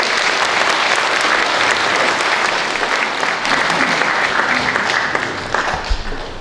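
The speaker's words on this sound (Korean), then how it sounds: "다시 한번 성원의 박수 부탁드리겠습니다" Sustained audience applause fills a church hall at a commemorative event honoring a film director, steady dense clapping throughout that thins slightly toward the end.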